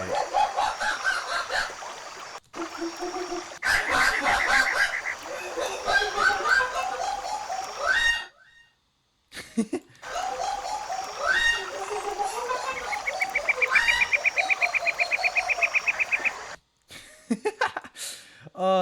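A designed rainforest ambience layers chirping birds and croaking frogs into a dense, lively bed, broken by a few abrupt cuts to silence and stretches of rapid trilling calls.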